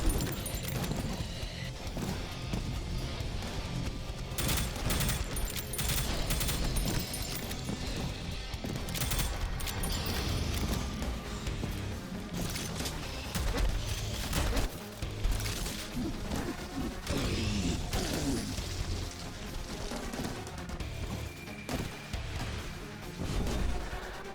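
A heavy weapon in the shooter game Prodeus fires in rapid, relentless volleys, with loud, dense blasts and crashing impacts running continuously throughout, mixed with game effects and no talk.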